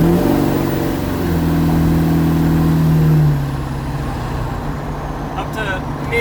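A 2002 Ford 7.3 Powerstroke diesel van with a straight-pipe exhaust roars loudly from inside the cab under hard acceleration, a deep steady drone that holds for about three seconds before easing into a lower cruising rumble.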